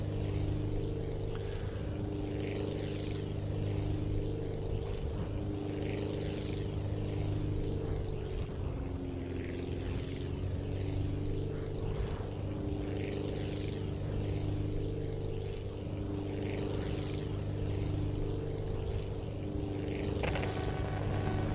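Steady propeller-plane engine drone with stable harmonic hum while coming in to land in the flight-building game Aviassembly, loud and continuous throughout, with a slight pitch dip midway and no talk.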